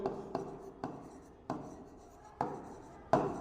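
Writing on a board or paper during a physics lesson on torque, a series of six distinct stroke-like scrapes spaced irregularly, each starting with a sharp onset and fading, close and fairly quiet.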